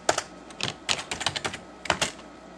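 Typing on a computer keyboard, close and crisp, with a quick burst of key clicks, a short pause, then a few more taps and a second small burst.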